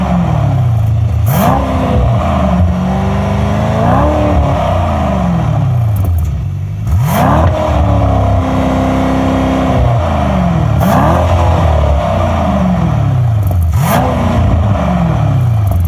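Repeated loud exhaust revs from a Mercedes-AMG E63 S, each sweeping up then dropping back, about five blips at a steady rhythm, very close.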